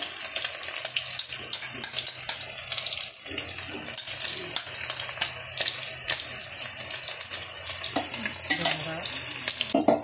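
Spice paste of Kashmiri chilli powder, turmeric, cumin powder and cashew-melon seed paste frying in a pan for restaurant-style chicken chaap, a dense close sizzle with constant scraping and stirring throughout.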